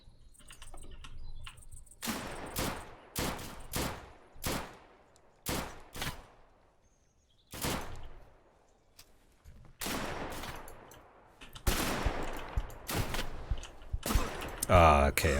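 Gunfire from the survival shooter Deadside cracks out in sharp single shots and short bursts, some loud and close and others softer, with quiet gaps between volleys.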